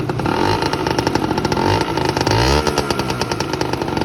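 A Honda NS50 50cc two-stroke motorcycle engine is revved close by, buzzing loudly and raspily with a fast rhythmic throb that rises and falls slightly through the revs.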